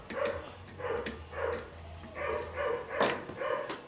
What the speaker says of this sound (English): My wife thinks it's funny just to let the dog bark all the time